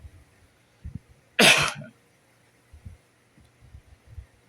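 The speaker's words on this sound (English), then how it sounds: "I still have some coughing fits, just getting blaming stuff up." One short, harsh cough from a person recovering after a tracheostomy, close and fairly loud in a quiet room, with faint breathy thumps and shuffling before and after.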